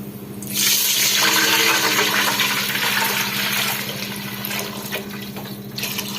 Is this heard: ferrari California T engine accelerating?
no